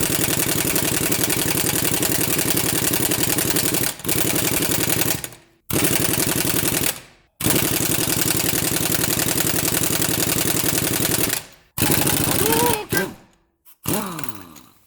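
A 3/4 inch impact gun hammers at the rear wheel hub bolts of a 2012 Fiat 500, giving loud sustained rattling bursts separated by brief pauses, with the tool winding down after each burst.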